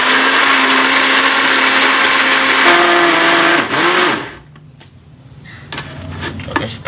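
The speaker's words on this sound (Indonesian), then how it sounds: "Langsung kita blender dulu ya teman-teman." An electric blender whirs steadily at high speed while chopping garlic for a homemade plant pesticide, loud and close. The motor pitch shifts and then the motor switches off, leaving softer handling clatter.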